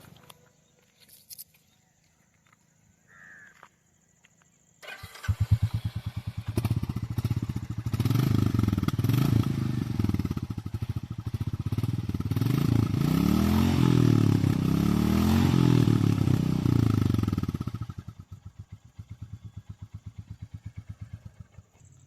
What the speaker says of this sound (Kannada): ಸೊ ಎಕ್ಸಾಸ್ಟ್ ಸೌಂಡ್ ಹೇಗಿದೆ ಅಂತ ನಾವು ನೋಡೋಣ ಬನ್ನಿ